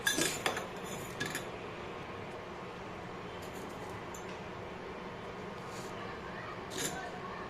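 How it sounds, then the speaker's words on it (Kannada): A spoon stirring sugar into tea in a pot on a lowered stove flame, with a few bright metallic clinks at the start and once more near the end over a low steady background hum. "ಇವಾಗ 1 ಸ್ಪೂನ್ ತಗೊಂಡು ಮಿಕ್ಸ್ ಮಾಡಿ."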